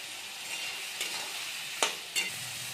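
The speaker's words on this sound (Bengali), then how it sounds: "এবার আমরা এটাকে খুব ভালো করে একটু কষিয়ে নেব" Spices with tomato frying and being stirred in a pan for a dried fish curry, a steady soft sizzle with a few sharp scraping stirs of the spoon, close and alone.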